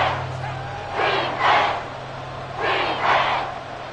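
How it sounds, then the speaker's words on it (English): A crowd at a Seahawks football stadium roars in two rising pairs of swells over a steady distant din, building as the fourth quarter reaches a big third down in a one-score game. "The crowd getting into it as we come up on a big third down."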